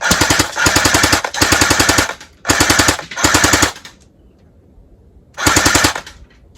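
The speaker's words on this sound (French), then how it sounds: "on va se faire du rafale" An airsoft Kalashnikov-style rifle fires loud full-auto bursts outdoors near woods, four rapid rattling strings separated by short pauses, then a final burst after a longer gap.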